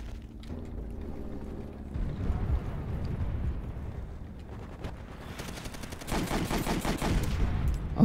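Springfield sniper rifle fire in the game Call of Duty: World at War, with a low rumbling stretch followed by a dense run of sharp, rapid cracks in the second half, and no voices.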